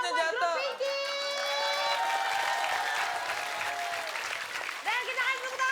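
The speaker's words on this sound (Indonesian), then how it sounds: "Sekarang kita kasih tepuk tangan dulu" Studio audience at a comedy show claps and cheers in a sustained, dense wave, mixed with shouts, a sustained musical tone and voices over the top.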